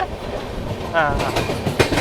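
The 12706 Secunderabad-Guntur Intercity Superfast train rolls out of Dornakal Junction, heard from inside the coach as a steady, loud rumble with repeated clickety-clack wheel beats, while a voice briefly talks over the running noise.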